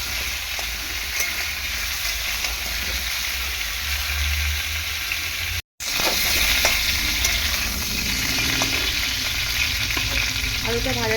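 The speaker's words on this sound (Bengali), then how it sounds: "তেলের মধ্যে আলুটা দিয়ে গ্যাসের ফ্লেম হাই রেখে আলুটাকে ভালো করে ভেজে নেব" Potatoes fry in oil over a high gas flame with a loud, constant crackling sizzle and frequent spatula stirs; a sharp cut near the middle briefly silences it before the frying resumes.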